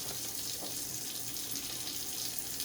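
Water runs steadily from a tap into a sink while hands are being washed. It makes a constant, even rush with no breaks or talk and is moderately quiet.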